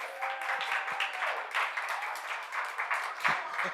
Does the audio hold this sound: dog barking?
no